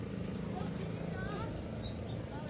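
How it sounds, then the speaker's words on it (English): Pigeons gather close by on a beach in Panglao, Bohol, with soft chirps and faint cooing over a low background murmur and people talking nearby. "Why is there a lot of pigeons here?"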